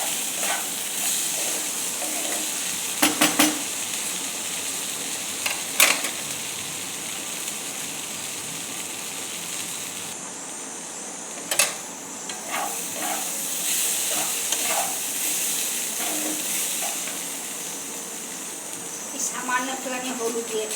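Khichuri made with gobindobhog rice sizzles and hisses steadily in a pan as it is stirred, with a few brief scraping clatters and a quiet voice now and then.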